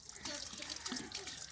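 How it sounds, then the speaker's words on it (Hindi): Water is poured onto plants outdoors, giving a steady splashing trickle at close range while someone talks over it. "अभी ये पानी दे रहा है बूटियों को, पौधों जो पौधे इधर हैं उसको पानी दे रहा है।"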